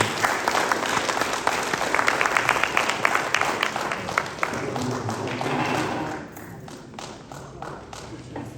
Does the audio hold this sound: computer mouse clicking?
no